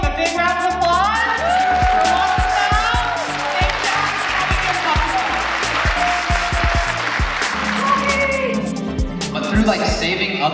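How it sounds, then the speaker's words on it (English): A crowd at a dog rescue event claps and cheers loudly, with scattered sharp claps over a busy mix of voices and cheering that carries on throughout. "Give a big round of applause!"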